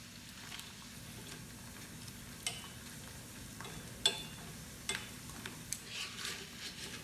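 Rice with seafood frying in oil: a quiet, steady sizzle with scattered small pops and ticks of stirring, heard alone without talk.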